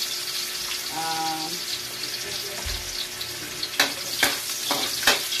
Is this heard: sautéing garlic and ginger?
yes